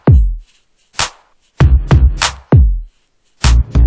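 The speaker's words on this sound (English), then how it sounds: "And of course the kick." Deep booming kick drum hits in a programmed FL Studio hip-hop beat, loud and close, each thump decaying quickly and interleaved with sharp clap-like hits in an uneven groove.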